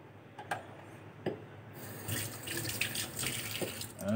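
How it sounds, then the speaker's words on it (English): Hot water flows from a Kecil water purifier into a tumbler, a steady pouring rush that follows a few small clicks and knocks and grows fuller as the stream continues. "I want to collect some hot water."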